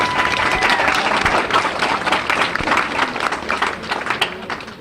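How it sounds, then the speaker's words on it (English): A crowd claps warmly for the Perkins family at a Center Stage evening show in Rouses Point, a busy, even round of applause that fades a little at the close. "Give them a big round of applause."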